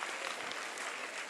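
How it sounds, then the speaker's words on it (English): Audience at an all-India quiz competition bursts into dense, steady applause, loud and continuous throughout the short burst. "Give him a big round of applause."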